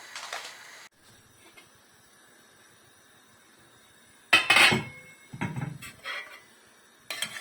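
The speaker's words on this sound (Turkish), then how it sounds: "Ve kapak kapanacak." Metal lid clattering shut on a cooking pot of Turkish okra stew in a kitchen, a sharp clanking rattle followed by a few lighter clinks, close and alone in a quiet room.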